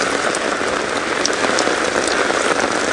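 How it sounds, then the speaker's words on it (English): Steady rain drums on the canvas rain cover of an open safari vehicle out on an evening game drive, a dense continuous hiss with scattered sharper drop taps throughout. "the rain's just going off away from the roof and not into the car"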